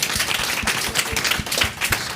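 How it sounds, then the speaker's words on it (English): An audience at a panel discussion on livestock and the climate crisis applauds, a dense, continuous patter of many hands clapping, fairly close and steady. "Please give her a round of applause."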